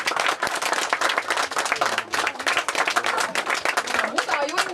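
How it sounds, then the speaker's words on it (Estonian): Enthusiastic applause from a gathered audience at a summer school closing and award ceremony, dense rapid clapping throughout, with voices and chatter mixed in underneath. "ma tahaks, et te teeksite Jaanikale kõige suurema aplausi"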